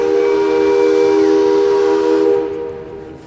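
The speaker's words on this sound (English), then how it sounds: "Steam-powered engines." A steam-powered boat in a river boat parade sounds its steam whistle: a loud, steady, multi-tone blast that holds for about two seconds, then fades away.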